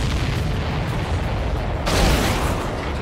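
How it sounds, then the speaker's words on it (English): An explosion in the Ace Combat 7 jet combat video game gives a loud, sustained, roaring blast that swells sharply midway through, then rumbles on without pause. "Did you see that explosion?"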